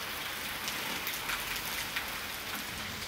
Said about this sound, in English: it is actually pouring down with rain here in South Africa